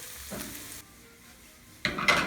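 Onions and peppers frying in a pan, a soft sizzle with clinks of a utensil stirring against the pan, growing louder and busier near the end.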